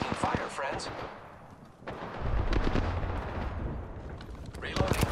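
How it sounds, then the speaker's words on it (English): Gunfire in the video game Apex Legends, loud rapid bursts of shots and booming impacts layered with game effects, with a voice speaking over the action. "Opening fire on the enemy."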